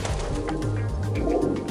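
In the underground catacomb ruins of Split, a pigeon gives low, throaty rolling coos that sound close and fairly loud in an echoing space, with no one speaking.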